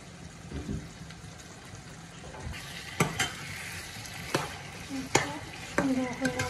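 Shrimp cook with bottle gourd and spices in a hot pan, frying softly while a utensil stirs and scrapes, producing several sharp clacks against the pan over a low background sizzle, near and without speech.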